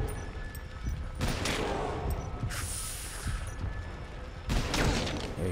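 Gunfire in the Metal Gear Solid video game aimed at an enemy tank, a dense fusillade of rapid shots with booming bursts, loud and continuous across the clip.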